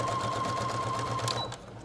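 A Brother DS1300 sewing machine stitching with a steady fast mechanical whir and rhythmic needle pulses, close and continuous, winding down at the end.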